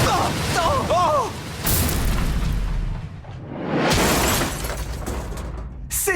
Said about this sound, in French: Mais cette explosion, c'est absolument rien comparé à ce qu'on est sur le point de voir.